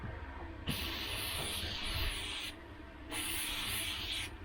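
Penetrating oil sprayed on parts during maintenance of a Sonicwake V2: soft hissing spray bursts and rubbing strokes come in two stretches, with a quieter pause between them. The sound is faint and close.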